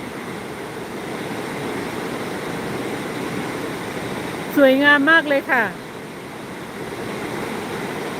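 Waterfall in a mountain valley where streams from the surrounding peaks converge, a steady broadband rush of falling water heard close and continuous, with someone briefly speaking over it midway.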